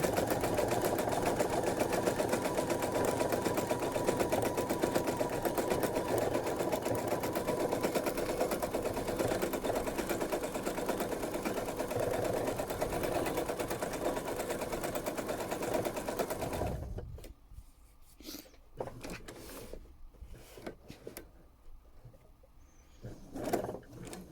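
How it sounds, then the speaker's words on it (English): Sewing machine stitching an embroidered stem onto a quilt block, running in a fast, steady close-up whir for about seventeen seconds, then stopping into a few short bursts and clicks of fabric handling. "I'm going to just sew this stem first, and then outline the leaves"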